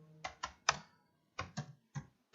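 Computer keyboard keys pressed in a quick cluster of three clicks, a short pause, then four more sharp taps, close and clear with no talking.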